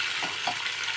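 Green chillies crackle and sizzle in hot oil in a pan while sambar is being made, a steady bright hiss broken by a few soft pops, close and fairly quiet.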